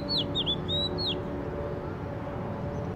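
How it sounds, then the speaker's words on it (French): A songbird sings a quick series of bright, sweeping whistled notes in the first second, fairly clear against a soft steady background hum that continues after the song stops. "le chant d'un oiseau"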